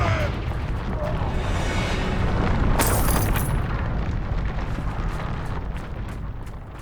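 A Confringo fire spell explodes in Hogwarts Legacy, a deep rumbling boom with a sharp bright burst near the middle, fading into crackling debris amid continuous game noise.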